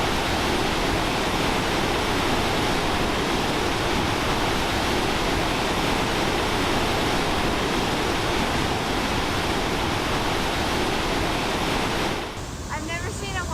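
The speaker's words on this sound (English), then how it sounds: "I've never seen a waterfall with this much force and water." A powerful waterfall at Mount Rainier National Park roars as a dense, steady, loud rush of falling water, continuous for the whole stretch before cutting off abruptly near the end.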